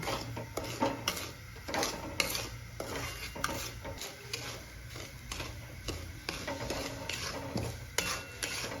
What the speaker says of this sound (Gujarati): આ રીતે આપણે થોડીક વાર હલાવીશું એટલે થોડુંક મીઠું ગરમ થઈ જાય